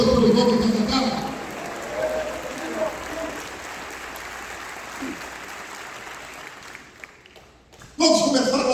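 A church congregation at an inauguration service applauds, the clapping and cheering fading gradually, with a voice speaking over the start and the end.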